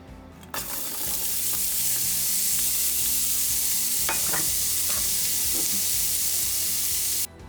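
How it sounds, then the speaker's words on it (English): Onion sizzles loudly in hot bacon fat for a quiche, a dense continuous frying hiss with a few stirring scrapes and clinks partway through. "There is just something amazing and great about hearing veggies just sizzle."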